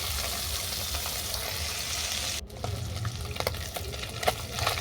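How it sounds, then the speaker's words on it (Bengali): Fish frying in a pan of oil until browned gives a steady, close crackling sizzle, briefly interrupted partway through before the sputtering resumes with a few sharper pops. "মাছটাকে উল্টো পাল্টে বাদামি করে ভেজে নেব।"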